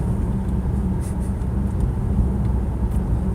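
Steady low road and engine rumble inside a moving car, a continuous broadband drone with faint higher ticks and no talk.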